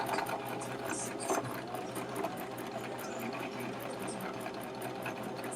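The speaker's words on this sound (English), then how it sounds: "So go stitch forward and I'm going to back stitch." A sewing machine stitches forward and back across a fabric face mask in a home living room, its fast, even mechanical chatter running continuously and fairly quiet, with a faint background hum and a few muffled bumps.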